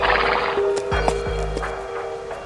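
A small horse-like animal from Reverse: 1999, shorter than a horse but taller than a donkey, with a yellow-striped back, neighs close by while a few hoof clops land beneath the whinny.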